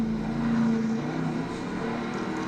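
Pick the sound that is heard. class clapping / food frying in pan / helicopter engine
helicopter engine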